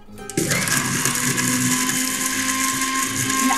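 An electric grinder whirs loudly and steadily as it grinds dry-roasted spices into powder, starting abruptly after a brief click and running continuously at high speed.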